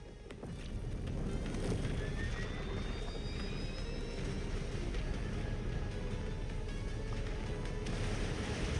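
Enemy reinforcement dropships landing in MechWarrior 5 Clans: a continuous loud roaring jet-engine rumble with rising whining tones, broad and sustained throughout, with no speech.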